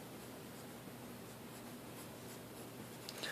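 Pen or pencil scratches across paper as a math expression is written out, faint and continuous with soft rustling, no voices.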